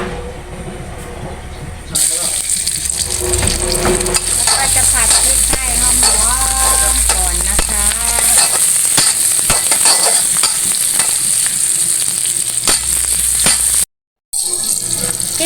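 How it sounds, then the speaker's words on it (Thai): Chilies pounded with garlic hit hot oil in a pan and burst into a loud, steady sizzle after a quieter start, with stirring scrapes throughout and a brief cut near the end. "ตั้งน้ำมันเรียบร้อยแล้วใส่พริกลงไปเลยค่ะ"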